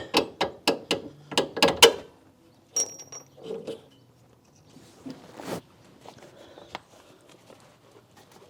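Coilover bolt being worked loose on a Mitsubishi Evo 8/9 rear suspension, a quick series of close metallic ratcheting clicks followed by scattered softer clinks and scrapes of metal parts.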